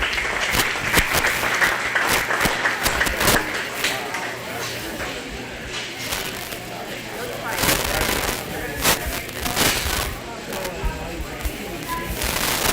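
A crowd applauds loudly and continuously at a county fair livestock show after a commercial gilt class, a dense wash of clapping with some sharper bursts, swelling again partway through.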